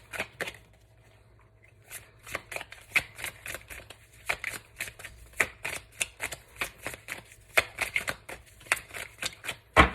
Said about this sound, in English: I'm just going to keep shuffling until I get roughly 1 or 2 more cards